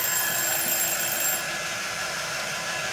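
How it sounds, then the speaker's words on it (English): Timer ringing during a craft painting session, a steady high electronic bell-like trill that stops after about a second and a half, leaving a faint hiss, with no talk. "that was the timer"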